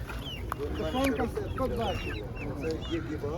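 Young hens clucking and chattering continuously, fairly close, with a busy market murmur and voices in the background.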